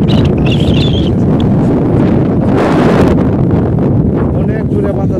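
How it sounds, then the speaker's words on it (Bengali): Strong wind blowing by a river in village Bangladesh as rain clouds gather, a loud continuous roar buffeting the microphone close up, with faint bird chirps early on. "অনেক জোরে বাতাস বইতেছে।"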